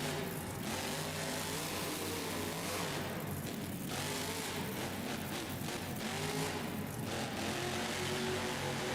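Monster Mutt monster truck engine in the BeamNG game, driven at a Monster Jam freestyle event in Oakland, California, drones and revs continuously, with surges of acceleration under a noisy, steady backdrop.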